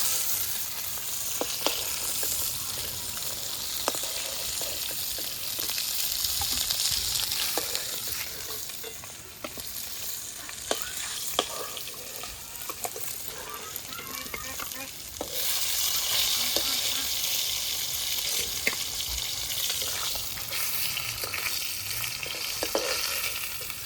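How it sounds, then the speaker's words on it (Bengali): Koi fish fry in oil in a pan, a steady, close sizzle with scattered sharp clicks of a utensil stirring and turning the pieces, rising and easing over time without talk. "মাছ ভাজা হয়ে গেছে, এখন মাছগুলো নামিয়ে নেব।"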